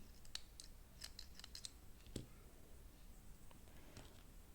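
Scissors snip through crochet yarn at a knot while making a crocheted butterfly hair clip, giving a few quiet, crisp cuts scattered over a soft background with no talking.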